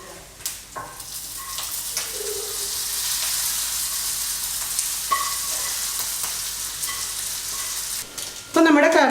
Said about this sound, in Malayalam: ഇനി ഞാൻ സ്റ്റൗ ഓഫ് ചെയ്ത് ഈ താളിച്ച ഇൻഗ്രീഡിയൻസ് നമ്മുടെ കറിയിലോട്ടേക്ക് ചേർക്കാം